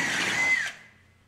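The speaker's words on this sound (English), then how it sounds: "Lastly, drill through to" A power drill bores through a steel chassis rail, a brief high whining grind that rises and then spins down into quiet.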